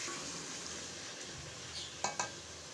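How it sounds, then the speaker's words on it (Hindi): Masala for chatni gosht fries in a pan with a soft, steady sizzle, then two quick metallic clinks of a utensil near the end. "ये देखें हमारा मसाला भुन रहा है"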